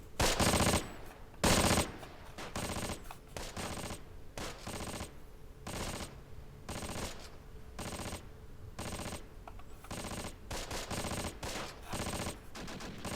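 Bursts of machine-gun and rifle fire crackle in the Close Combat game's fight over a French village, loud and repeated in short volleys across the whole stretch.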